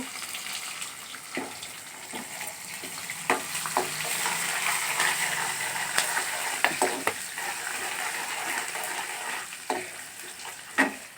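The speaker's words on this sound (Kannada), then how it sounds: "ಈಗ 1 ಸ್ಪೂನ್ ಜೀರಿಗೆ ಹಾಕ್ಕೊಂಡು ಈಗ ಬೆಳ್ಳುಳ್ಳಿ, ಕರಿಬೇವಿನ ಸೊಪ್ಪು," Cumin seeds, garlic and curry leaves sizzle in hot oil with a steady, near hiss, and occasional sharp taps and scrapes of a spoon stirring the pan; nobody talks.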